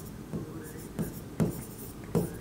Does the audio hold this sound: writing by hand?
yes